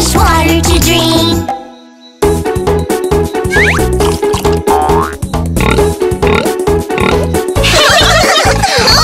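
Rhythmic pig oinks are imitated by a voice over bouncy backing music in a children's phonics song, repeated in quick succession and loud throughout.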